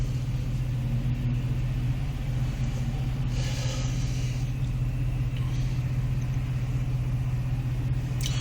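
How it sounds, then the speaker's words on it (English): A 2006 Jeep Grand Cherokee with a custom side exhaust idles at a stoplight, a steady low droning rumble heard from inside the vehicle, constant and unbroken with faint background road noise. "And then we are just sitting at idle right now."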